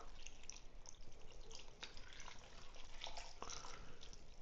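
Beef broth pours steadily into a pot with soft splashing and trickling, a continuous close wet sound with a few small drips, no voices.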